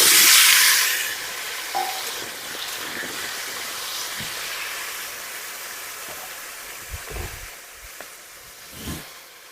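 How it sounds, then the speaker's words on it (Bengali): Cut potatoes dropped into hot oil for a curry sizzle with a loud burst of hiss at first, then settle into a steady, quieter frying crackle with a few soft knocks. "আর তরকারির জন্য আলুটা তৎক্ষণাৎ আমি ভেজে নিচ্ছি।"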